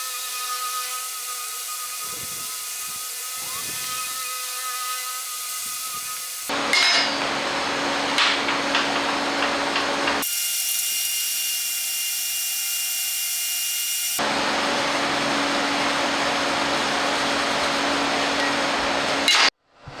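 Body filler on electric chopper bodywork is being sanded in long, steady stretches of harsh scratchy noise, loud and close, broken by short pauses and no talking.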